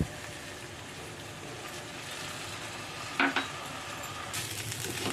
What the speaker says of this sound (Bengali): এবার চালটাকে হালকা হাতে নাড়াচাড়া করব